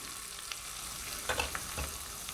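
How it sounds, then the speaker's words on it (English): Green chilies and cumin seeds splutter in hot ghee for a sabudana khichdi tempering, a close, steady sizzle with a few sharper pops and crackles over a short stretch. "I'm going to put the green chilies, the cumin seeds, and once the cumin is spluttered a bit"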